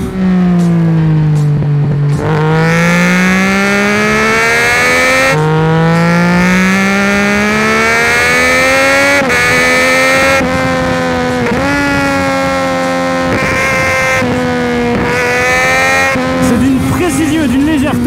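A Triumph Daytona motorcycle engine revs hard toward the redline above 11,000 rpm, loud and close, its pitch climbing in repeated surges with brief drops between gear changes.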